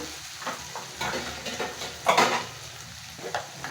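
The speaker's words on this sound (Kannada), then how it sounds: "ಟೊಮೊಟೊ ಕೂಡ ಇದರಲ್ಲೇ ಬೇಯಲಿ ಚೆನ್ನಾಗಿ ಇದಕ್ಕೆ ನಾವು ಉಪ್ಪು ಹಾಕೋಣ" Tomatoes and garlic frying with salt in a pan for a ladies finger palya, with intermittent scraping stirs over a soft sizzle and one louder stir midway.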